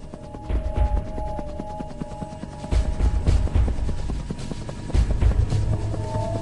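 Helicopters over a river flood evacuation, a loud continuous rotor chop with rapid thudding beats and rumbling low engine noise, close and steady throughout.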